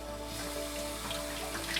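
Water runs over a canister aquarium filter sponge during a quick rinse, giving a soft, steady splash and trickle at low volume close by, with no voices.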